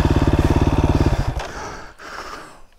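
A motorcycle engine that will not switch off thuds at a fast, even idle close by for about a second and a half, then sputters and dies away, leaving rough noise as the bike sits stuck in mud.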